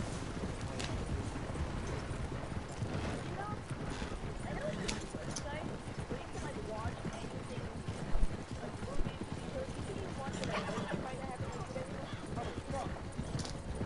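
Horse hooves clip-clopping in the video game Red Dead Redemption 2, a steady, fairly quiet rhythmic walk that runs throughout while players chat over it, with a brief snort partway through.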